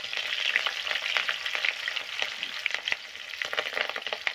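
Cumin, green chilli and onion crackle and sizzle in hot oil, a dense close frying hiss with stirring scrapes and small pops throughout.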